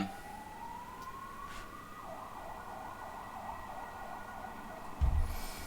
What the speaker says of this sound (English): lot of ambulances here